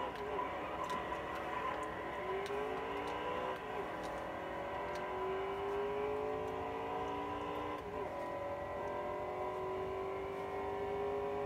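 A NASCAR Heat 3 stock car engine drones steadily through qualifying at Daytona in the video game, with rising harmonic sweeps as it accelerates and shifts, loud and continuous throughout.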